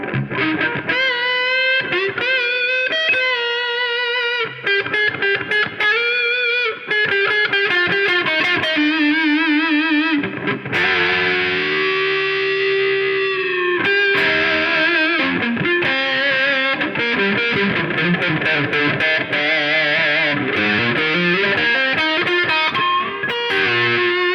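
An electric guitar plays a continuous run of bluesy notes and bends through a distorted Boss Katana 50 amplifier with the tone knob turned down, loud and steady with no talking.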